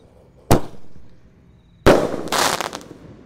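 A 1.75-inch Bazooka Roman candle firework launches with a sharp near pop, then after a short pause a second loud blast that trails into a crackling, hissing burst lasting about a second, heard outdoors at night.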